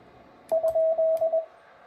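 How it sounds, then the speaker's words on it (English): Pure CW Morse code tone from a ham radio with the static muted: a clean steady beep keyed in a few short and long elements, close and clear over near silence. "And now you hear just a pure CW."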